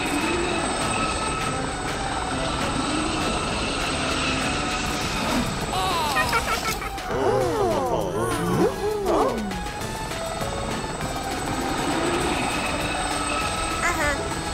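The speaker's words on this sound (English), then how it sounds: "A helicopter propeller?" A cartoon helicopter propeller spins in a children's fire-truck Christmas animation, giving a continuous whirring drone with a clattering, train-like rumble, under music and cartoon voices.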